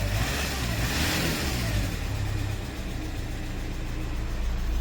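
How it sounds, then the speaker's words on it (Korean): A 2016 Hyundai Porter 2 Super Cab truck with a Euro 5 diesel engine and 300,000 km on it starts and runs, giving a loud close rumble that revs briefly and then settles into a steady idle. "시동을 먼저 한번 걸어 볼게요"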